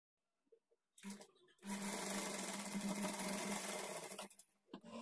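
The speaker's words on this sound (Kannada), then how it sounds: "ಈ ಥರ ಒಳಗಡೆಗೆ ಫೋಲ್ಡ್ ಮಾಡಿಕೊಂಡು ಸ್ಟಿಚ್ ಮಾಡ್ಕೊಳ್ಬೇಕು" A sewing machine runs steadily for about three seconds, stitching a folded-in edge of blouse fabric, with a few brief clicks before it starts and a short stop-start at the end.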